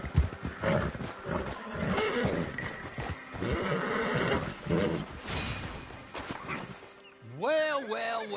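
In Red Dead Redemption 2, a horse gives a loud, wavering neigh near the end, after a stretch of shuffling movement and game sound with a voice speaking.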